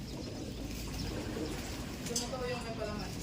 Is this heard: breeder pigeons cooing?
yes